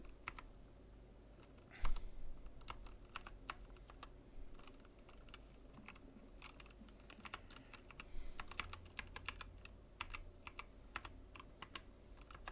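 Fast, uneven clicking of keys being typed on a regular 105-key computer keyboard, heard close and fairly quiet, with no voices.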